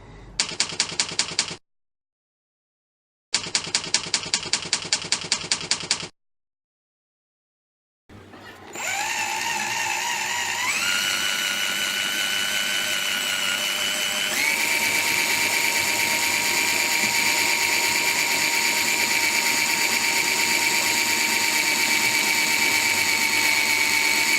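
A power drill bores holes into a cheap practice lock, with two short rattling bursts separated by silence, then a long steady high-pitched whine as the bit cuts into the metal, close and loud.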